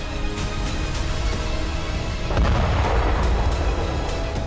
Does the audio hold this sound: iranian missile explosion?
yes